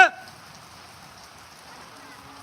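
Steady rain pours down outdoors in a Punjabi farming village, a soft continuous hiss of drops that holds evenly throughout after a brief louder knock at the start.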